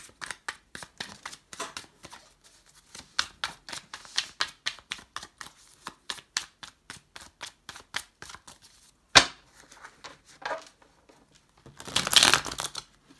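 Tarot cards being shuffled by hand: a long run of quick, crisp card slaps and flicks in an uneven rhythm, close and clear, with a sharp clack partway through and a denser riffling burst near the end.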